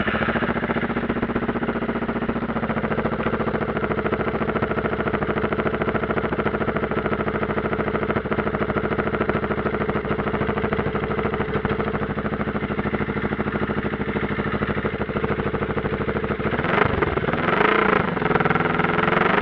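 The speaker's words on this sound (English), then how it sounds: "So as promised, I'm going to put the sound of the bike on now, so I'm just going to switch her on." Suzuki GSX250R motorcycle fitted with upgrades idling close by, a steady, loud, unbroken engine drone with a brief revving flutter near the end.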